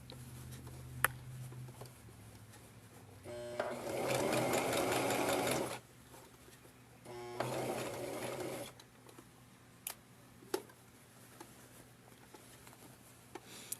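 Sewing machine stitching a small messenger bag strap, running in two bursts of a couple of seconds each with quiet pauses and a few light clicks between, close and clear.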